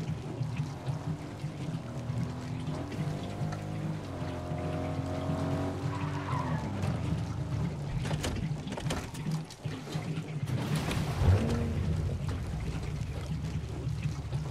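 A car driven in the video game Fortnite, with a steady engine hum that rises and falls in pitch. Tire skids and squeals come in the second half, continuous and fairly loud, with no voices.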